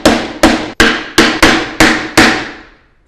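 A 12-ounce hammer drives a nail into wood with seven sharp, loud strikes at a steady pace, each ringing briefly before the next blow, close and alone.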